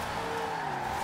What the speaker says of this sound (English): Gonna drift it around here.